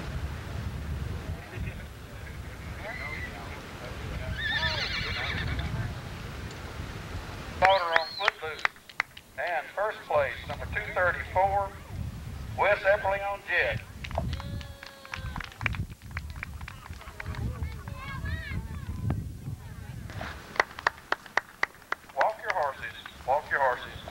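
Horses walking in the ring at a 1988 Carroll County horse pull and horse show, with repeated hoof clip-clops under a loud announcer on a public address system and ambient crowd noise.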